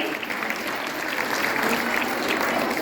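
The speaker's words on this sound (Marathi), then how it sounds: "टाळ्या वाजवा यांच्यासाठी." An audience applauds a woman called forward from the crowd at a gathering, with dense, steady clapping filling the whole stretch without a break.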